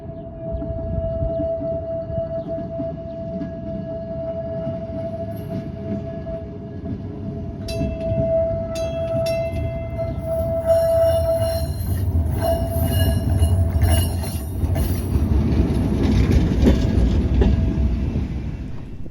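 A 1951 ex-Toronto streetcar runs along a line in Kenosha, a steady rumble building as it rolls past, with a sustained whining tone and high screeching wheel squeals near the end.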